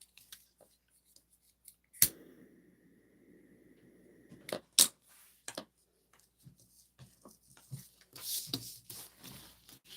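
Scissors cut fabric for zipper pockets in a quiet room, with several sharp snipping clicks and a sustained slicing stretch, then scattered small handling taps and rustles.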